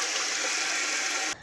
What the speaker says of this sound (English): You may have noticed a lot of water spraying out from underneath the valve.